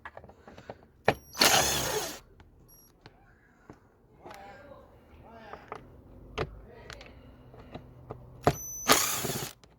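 Power tool removing the bolts of an air filter housing during a Vauxhall Astra service, two loud whirring bursts near the start and end, with clinks, clicks and handling noises in between, close up.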